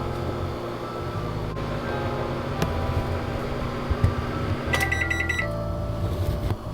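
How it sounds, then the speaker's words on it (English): A steady microwave oven hum runs throughout while heating a Nongshim Shin Ramyun noodle bowl, with a cluster of rapid high electronic beeps near the end and faint clicks. "Open. Microwave. In 3 minutes."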